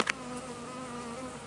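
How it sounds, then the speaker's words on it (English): Honey bees crawling in a pile with their queen in grass give off a faint, steady buzzing drone up close, with a brief louder flutter at the start. "So in this pile of bees is a queen."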